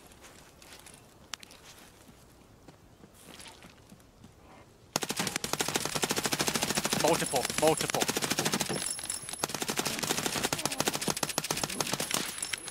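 Rapid automatic gunfire in the Escape from Tarkov shooter game, a dense burst of shots that fills the second half of the clip after quieter footsteps and scattered sounds, with a player talking over it.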